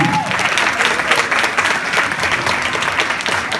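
An audience at a school perseverance event applauds loudly and steadily, dense clapping filling the whole stretch without a break.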